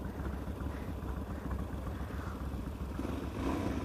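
A Supermoto motorcycle ridden out in the rain, its engine giving a steady rumbling drone throughout with a slight rise toward the end.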